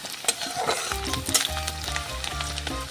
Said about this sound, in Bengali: খন্তা দিয়ে আমরা এটাকে কিন্তু একটু নাড়িয়ে চাড়িয়ে দেবো